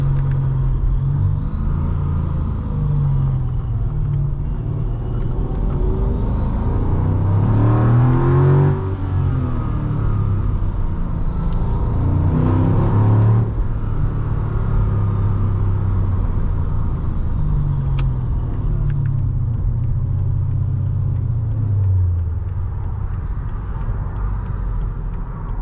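A supercharged 2006 Mercedes-Benz E55 AMG W211 accelerates from inside the cabin, its engine note rising and falling through several gear pulls over a constant heavy road rumble.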